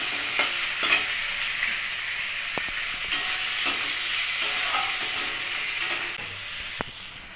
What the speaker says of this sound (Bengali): টমেটো কুচিগুলো, ঢেলে দেবো।